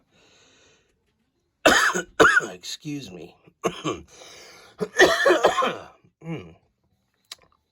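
A few hard, raspy coughs close to the microphone, followed by a person speaking briefly.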